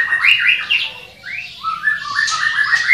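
Hong Kong myna calling close by, a quick run of sharp rising and falling whistles and squawky chirps repeated over a few seconds, clear and alone.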